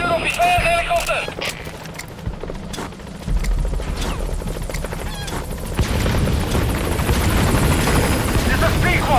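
The Pequod helicopter in Metal Gear Solid V roars loud and close with thudding rotors and heavy engine noise. A radio voice speaks over it, and a sharp mechanical clatter comes partway through.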